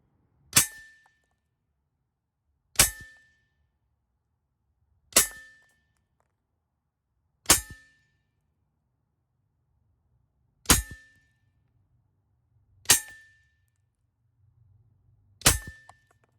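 Seven sharp, evenly spaced shots from an AEA HP SS semi-auto pellet pistol, each a crisp crack followed by a short metallic ring as the pellet strikes the target, with quiet pauses between them.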